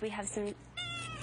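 An adoptable kitten meows in the background of a pet adoption show, several short plaintive meows overlapping a person speaking in the foreground.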